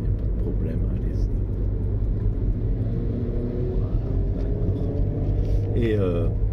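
A car overtaking on a mountain road, a steady low engine rumble building as another vehicle passes, with a person talking over it.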